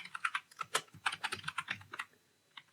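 Rapid typing of JavaScript code on a computer keyboard, a close burst of crisp key clicks in an irregular quick rhythm that slows and trails off into a few isolated taps, no talking.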